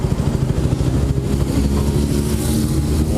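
A Yamaha motorcycle rumbles past nearby, its engine note rising and falling as it goes by, loud and fairly close, with no voices over it.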